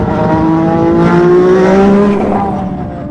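Ayrton Senna's McLaren MP4/4 Formula 1 car runs loud and close, its high-pitched engine holding a sustained whine with gear-change pitch shifts before easing off slightly at the end.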